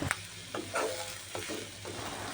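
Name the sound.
onion and sliced green chillies frying in oil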